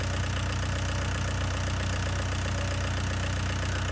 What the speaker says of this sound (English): The tractors are coming for war.